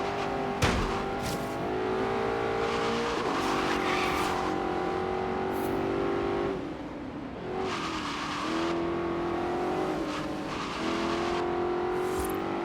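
A tuned car with an aero setup drives in the racing video game Forza Horizon, its engine loud and steady, revving up through the gears with shifts and brief drops in pitch.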